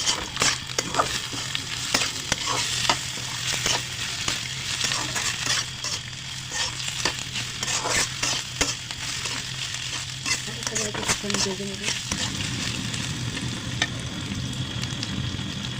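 Chopped potatoes and onions fry in a pan with a steady, dense sizzle and crackle, broken by frequent scraping and stirring strokes, close and continuous throughout.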